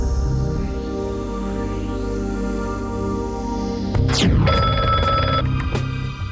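A telephone rings with a steady electronic tone over a low background hum, the ring pattern repeating a few times near the end.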